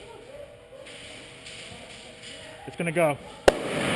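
A firecracker banger goes off at an airsoft game with one sharp, loud crack that follows a short stretch of voices, then leaves a rush of noise behind it.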